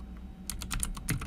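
Quick keystrokes click on a computer keyboard, a brief run of light, close taps coming in a loose rhythm with no one speaking.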